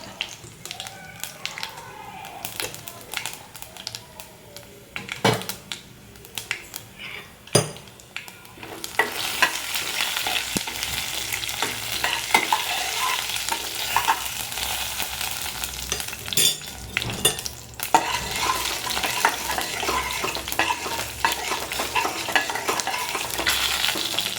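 Urad dal, green gram and cumin frying in a pan for a mashed elephant foot yam dish, a busy close sizzle that swells louder halfway through, with occasional stirring taps.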